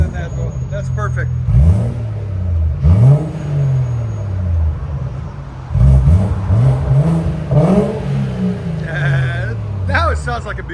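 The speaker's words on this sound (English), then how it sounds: "Now it sounds like a Beamer." A 2017 BMW 740i, 3.0L turbo inline-six with the muffler deleted, snaps through a series of sharp revs that swell and fall back to idle, close by, with people talking between blips.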